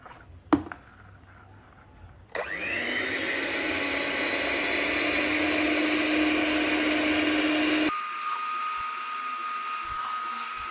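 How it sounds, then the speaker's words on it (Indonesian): An electric hand mixer whirs loudly and steadily while beating ice pack gel, running at high speed for several seconds before dropping to a lower, quieter hum. "Saya masih menggunakan hand mixer ini."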